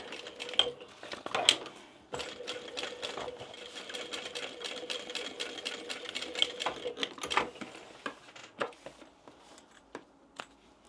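A sewing machine top stitches down the exterior seam of a fabric bag, running in a steady rapid mechanical patter for most of the stretch, broken by a few brief stops and sharp clicks.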